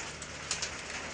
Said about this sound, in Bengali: তো টিনের মধ্যে বৃষ্টির একটা শব্দ কিন্তু ভালোই লাগে